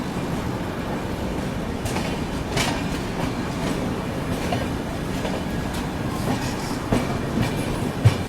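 The Jogbani Kolkata Express passes right alongside on the line near Katihar Junction, giving a continuous close rumble of rail wheels with clickety-clack joints and occasional sharp squeals, and no voices.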